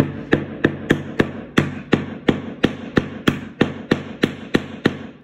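Rapid, evenly spaced metallic taps, around seventeen sharp strikes in quick succession, as the back of a knife pounds a staple flat into a canvas stretcher bar, close and fairly loud.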